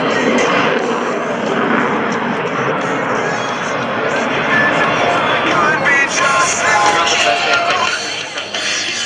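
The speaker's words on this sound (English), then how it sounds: "McWhorter is rolling out the Diamond to demonstrate the awesome power of these General Electric engines" US Navy Blue Angels jets with General Electric engines roar loudly and continuously at an air show open house, a dense broadband rush that holds steady for nearly the whole span, with crowd noise mixed underneath.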